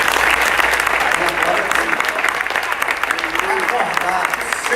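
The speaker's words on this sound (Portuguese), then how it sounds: "Vamos aplaudir o Senhor?" A church congregation at a Bible study session applauds, giving a loud, continuous burst of many hands clapping, with a faint voice or cheering mixed underneath.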